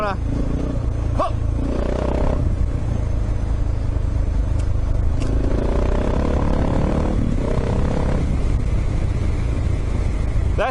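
A motocross motorcycle brakes and rounds a corner on a track, its engine note dropping then rising again through a steady loud drone, with a rider's voice talking over it.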